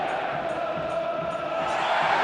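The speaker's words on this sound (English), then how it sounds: "the home crowd getting behind the side" A home football crowd at Borussia Dortmund versus Rangers roars in a dense, sustained wash of cheering, loud and steady, with a commentator's voice faint within it.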